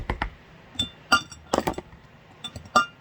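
Ice cubes clink against the sides of a glass of milk in a series of sharp, bright taps, several close together at the start and more scattered knocks after, close and fairly loud with no talking.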